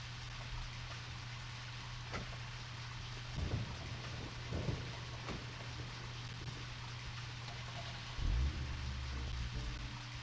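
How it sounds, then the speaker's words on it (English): Steady rainfall in the video game Deadly Premonition, a constant soft hiss with a low hum beneath and occasional dull thumps and rumbles. "while it's raining"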